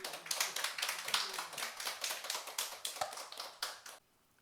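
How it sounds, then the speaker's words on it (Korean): A church congregation applauds to welcome a missionary to the pulpit at a Sunday service, dense rapid clapping at steady loudness for about four seconds before cutting off abruptly to near silence. "우리 선교사님 큰 박수로 모시겠습니다."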